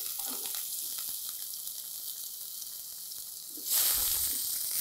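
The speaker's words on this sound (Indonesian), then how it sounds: "Selanjutnya kita tumis bawang putih dan bawang bombaynya." Garlic and onion sautéing in a pan for Indian samosas, a steady bright hiss of frying that swells louder near the end, as if stirred or more added, with no speech.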